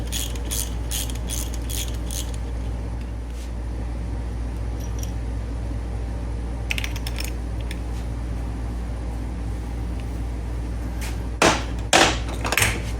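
A hand tool works the T27 Torx screws on the cam plate of a Harley-Davidson M8 engine, with scattered light clicks early and a few louder, close ratcheting bursts near the end over a steady low background hum.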